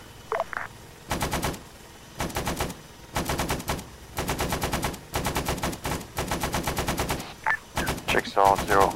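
A helicopter door gunner's machine gun in ArmA 3, set in Vietnam, fires in about eight long, loud automatic bursts, each separated by short pauses, with brief radio chirps and a voice at the edges.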